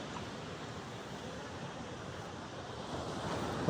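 Steady rush of surf with wind blowing across Chennai's Marina Beach, a continuous broad wash of waves with a gust at the very end.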